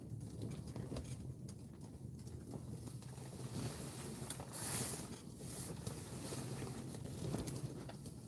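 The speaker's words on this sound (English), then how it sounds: "Boy, that wind be blowing." Wind gusts across an open ice-fishing spot with a low, faint buffeting rumble that rises and falls in swells and carries no speech.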